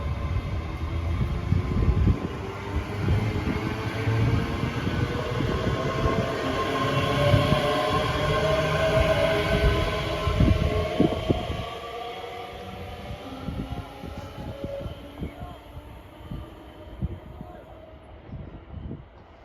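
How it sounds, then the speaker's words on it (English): A ScotRail passenger train departs Edinburgh Waverley bound for North Berwick, its loud rumble and rail noise fading slowly as it pulls away, with a faint voice underneath. "Departing out now is the 1255 ScotRail service from Edinburgh Waverley to North Berwick."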